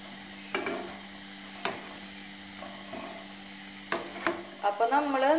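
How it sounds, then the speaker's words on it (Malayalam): Tapioca fritters (kolli vada) frying in oil in a pan as a soft sizzle, broken by a few sharp knocks and scrapes of a utensil turning them, with a voice speaking briefly near the end. "നമുക്ക് ഒന്ന് ഇളക്കി കൊടുക്കാം"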